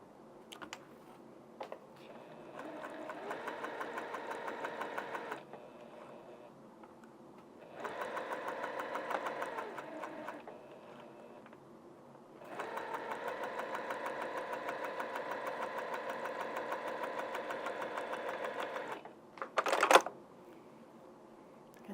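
A sewing machine stitches a quilt seam in three sustained runs of steady whirring, separated by short pauses, followed by a brief louder clack near the end. There is no talking.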